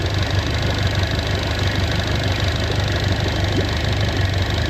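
A Mercury 115 HP four-stroke, four-cylinder outboard engine idles while warming up, giving a steady, continuous low rumble with a faint knocking pulse, close and fairly loud with no voices.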